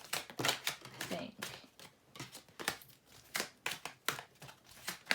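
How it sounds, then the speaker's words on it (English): Slippery new tarot cards being shuffled in quick riffling bursts, a fairly close, irregular run of crisp papery slaps and flutters, with no talking over it. "Some of it could be my shuffling, of course, with very slippery cards."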